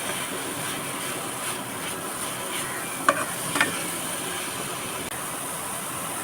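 Grated carrot fries in ghee in a pan for carrot payesh, a soft continuous sizzle with a couple of sharp spoon clinks near the middle, steady and close with no speech.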